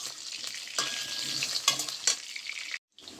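Potatoes fry in a pan with a loud, crackling sizzle, stirred in bursts of scraping, then a sudden brief drop to silence near the end.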